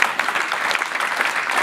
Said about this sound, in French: je vous demande un tonnerre d'applaudissements pour monsieur